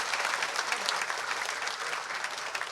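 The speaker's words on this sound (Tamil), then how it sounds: "நல்லா கைத்தட்டு கொடுங்க அவருக்கு" Applause from an audience at a Tamil film audio launch welcoming a debut music director, a dense, steady wash of clapping from a crowd.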